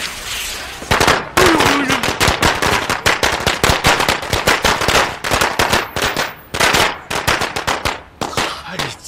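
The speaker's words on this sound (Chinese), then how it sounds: "我这鞭炮一炸，" A string of firecrackers going off, a rapid, loud chain of sharp cracks in uneven bursts that keeps popping close by for several seconds.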